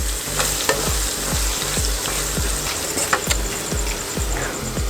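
Bell pepper curry is stirred in a hot pan with a spatula, giving a steady run of rhythmic scraping knocks over a constant sizzle, near and clear with no talking.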